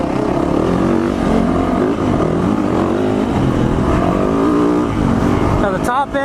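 A Yamaha four-stroke dirt bike at a ride day revs hard and steadily near the microphone, its engine roaring continuously, with a few vocal sounds mixed into the noise.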